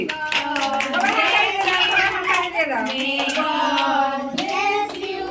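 People clap their hands at a birthday cake cutting at home, the claps running under loud, sustained voices that sound sung rather than spoken.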